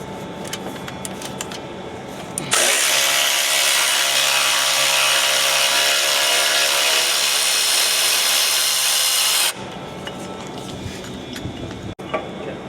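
A power tool loosening the factory stabilizer bracket bolts on a Ford Super Duty runs as one loud, steady whine for about seven seconds, close up, with quieter clicks and handling before and after.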